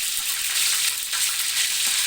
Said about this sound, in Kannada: ನೆಕ್ಸ್ಟು ಸ್ಲೈಸಾಗಿ ಹಚ್ಕೊಂಡಿರುವಂತಹ ಹಸಿಮೆಣ್ಸಿನ್ಕಾಯಿನ ಸೇರಿಸ್ಕೊಂಡು ಚೆನ್ನಾಗಿ ಎಣ್ಣೆಯಲ್ಲಿ ಫ್ರೈ ಮಾಡ್ಕೊಳ್ತಾ ಇದ್ದೀನಿ